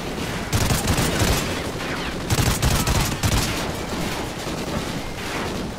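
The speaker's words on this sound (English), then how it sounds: "Who's shooting at me?" Dense, loud video game gunfire from Call of Duty: Ghosts, rapid overlapping shots and bursts pounding on without pause, with heavy impacts surging in waves throughout.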